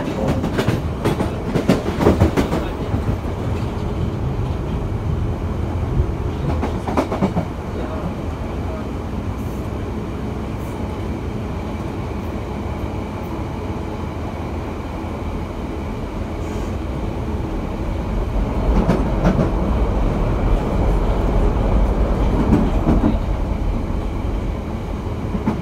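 A London Underground Piccadilly line train rides along the track with a continuous rumble, periodic clicks and clatters of wheels over rail joints, and a swell in roar toward the end, with no voices.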